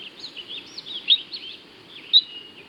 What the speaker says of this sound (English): A mother makes chirping sounds to collect her wandering offspring.